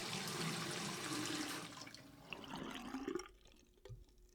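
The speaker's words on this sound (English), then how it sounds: "Turn on the cold water and check the water flow." Cold water running from a bathroom sink faucet during a home inspection, a steady broadband rush for the first second and a half that then thins into irregular splashing and trickling before fading out.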